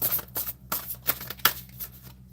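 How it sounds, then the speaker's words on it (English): Oracle cards are shuffled close up in a run of crisp, riffling bursts with short pauses between them, and no talking. "one more shuffle for Misty"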